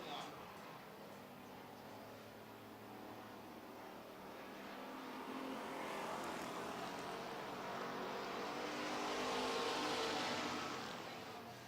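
Street stock race cars roar around a track during a heat race, a steady engine drone that swells louder toward the end, with a commentator talking over the noise.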